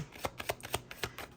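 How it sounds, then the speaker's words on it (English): A deck of tarot cards being shuffled, a series of quick riffling bursts in an uneven rhythm, close and fairly quiet. "let's just shuffle again"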